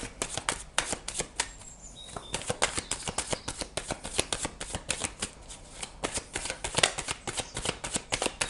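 Oracle cards are shuffled by hand in quick, crisp bursts of riffling and slapping that repeat steadily at close range, with no voices.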